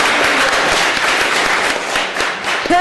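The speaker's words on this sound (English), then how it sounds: "Please give him a round of applause." Audience applause at a Board of Supervisors meeting, a dense sustained burst of clapping filling the room, loud and steady before tapering slightly near the end.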